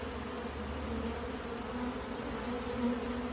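A honey bee swarm marching into a hive gives a steady, dense buzz of many wings that holds evenly throughout, fairly close, with no voices.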